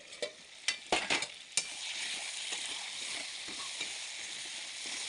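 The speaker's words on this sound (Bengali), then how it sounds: "এবার ঢাকনাটা খুলে নিয়ে নাড়বো চিকেনটা।" Chicken sizzles steadily in a pan while being stirred, several sharp scrape-and-clatter strokes in the first second and a half giving way to a continuous close frying hiss.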